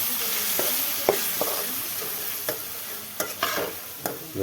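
Onion and tomatoes stirred in a pan for a kantola vegetable dish, with several distinct scraping knocks of the spoon spaced irregularly over a continuous sizzle.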